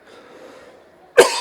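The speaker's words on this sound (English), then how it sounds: "Sorry, I've got a cough." A single sharp cough bursts out abruptly near the microphone after a stretch of quiet room murmur, during a literary festival conversation.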